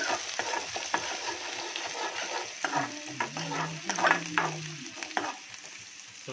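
Chopped onion and a green chili sizzle in hot oil, a fairly quiet frying hiss with repeated stirring scrapes and a brief low hum partway through, no talking.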